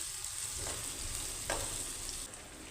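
Red chilli powder, about two spoonfuls, sizzles in hot oil in a pan while preparing chapati chivda, a steady broadband frying hiss with a couple of soft stirring scrapes, close and continuous with no talking.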